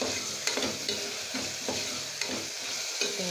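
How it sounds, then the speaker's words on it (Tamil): Green chillies sautéing with ginger garlic paste for a vegetable biryani, a steady close sizzle broken by several sharp scraping strokes of a spoon stirring the pan. "வதக்கினதுக்கப்புறம் இஞ்சி பூண்டு பேஸ்ட் கொஞ்சம் அரைச்சி வச்சுருக்கேன், போட்டுக்கலாம். போட்டு நல்லா வதக்கணும்."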